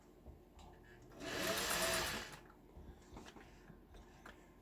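A Singer 401A sewing machine stitches fabric in a single steady whirring run of about a second, starting and stopping cleanly amid quiet handling sounds and light room noise.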